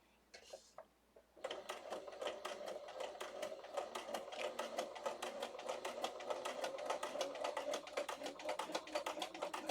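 A sewing machine stitching a fabric sewing folio, starting after a few quiet clicks into a fast, even run of mechanical needle strokes that stays close and steady, with no voice.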